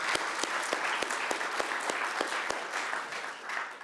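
Audience applause for a professor at a talk on environmental law, steady and fairly loud, with dense hand claps filling the whole stretch and a few sharper individual claps standing out.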